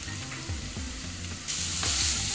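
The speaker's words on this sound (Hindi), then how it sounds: "अब इन सारी चीज़ों को हमें 3 से 4 मिनट के लिए मिड हाई फ्लेम पे भून लेना है।" Chicken and boiled potato mixture frying in a pan over a medium-high flame, a steady close sizzle with stirring scrapes that grows louder and brighter partway through.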